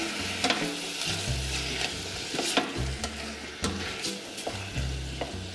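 Tomato sauce poured gradually into a sizzling pan of chopped palm heart filling for savory pastries, with steady frying hiss and repeated scraping stirs throughout, no talk.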